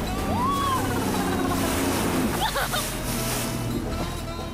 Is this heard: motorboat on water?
yes